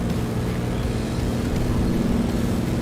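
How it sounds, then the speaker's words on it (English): A de Havilland Beaver's piston engine drones steadily in Microsoft Flight Simulator, a constant low hum with a stable pitch, with no talking over it. "now I can hear the engine"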